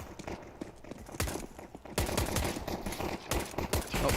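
Rapid bursts of Glock pistol fire in a Counter-Strike pro match between NaVi and MOUZ, loud sharp cracks in quick irregular volleys, thickening into near-continuous shooting in the second half.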